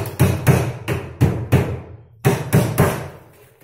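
An iron door is hammered into its frame with a run of sharp, heavy metallic blows, loud and close, in uneven groups with short pauses between them.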